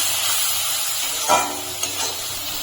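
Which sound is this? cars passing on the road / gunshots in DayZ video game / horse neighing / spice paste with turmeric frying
spice paste with turmeric frying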